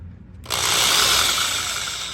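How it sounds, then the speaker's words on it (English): A power drill fitted with a 1/4-inch bit bores a small hole from underneath on a 5th generation Ram truck, spinning up suddenly after a short pause into a loud, steady high-pitched whir at close range. "1/4-inch drill bit, and you're gonna come up from the bottom like so."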